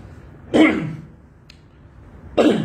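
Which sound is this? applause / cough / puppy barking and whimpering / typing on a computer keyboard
cough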